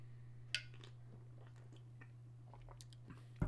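Someone chews right into a microphone during a Magic Online cube draft session, a few faint wet crunches and bites scattered across a quiet stretch with no talking.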